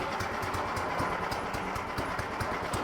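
Ariens snowblower engine running after an electric start, a fast, even chugging idle with rhythmic mechanical knocks, close and steady throughout.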